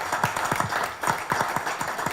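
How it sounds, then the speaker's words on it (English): Applause rises from a live studio audience at a late-night environmental show, with uneven claps layered over a steady crowd wash through the whole clip; there is no talk. "round of applause"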